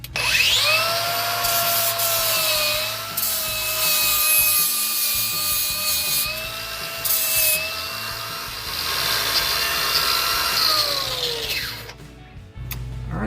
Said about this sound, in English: I'm just going to be using a flap disc on an angle grinder